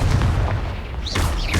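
A Confringo spell blast in the Hogwarts Legacy video game: a loud, booming burst with a heavy low rumble, followed by a couple of short whooshing sweeps.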